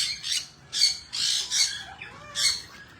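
Several short, bright bird squawks and chirps in quick bursts, fairly close, with brief pauses between calls.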